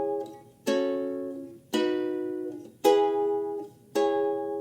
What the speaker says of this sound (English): I'm going to start off by playing the intro with chords and the strumming pattern